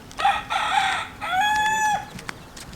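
A rooster crows loudly and close by in a single drawn-out call, followed by a short clucking tail, outdoors on Oahu's eastern coast.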